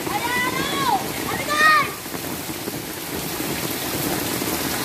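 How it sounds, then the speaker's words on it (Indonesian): Heavy rain pouring steadily in Makassar during flooding, a dense continuous hiss of falling water with splashing, loud and close, with a brief swell near the start. "lumayan ini hujan dari jam 5 subuh sampai jam setengah 9 sekarang"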